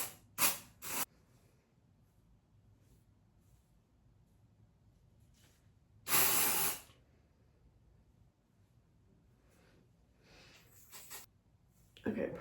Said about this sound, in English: I'm just gonna put a little bit of dry shampoo.